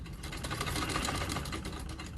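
A Singer sewing machine runs steadily, giving a continuous fast mechanical whir and rattle at moderate volume with no pauses.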